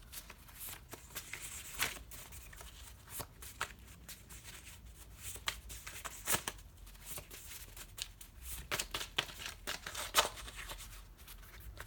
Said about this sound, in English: I'm just going to shuffle 4 more cards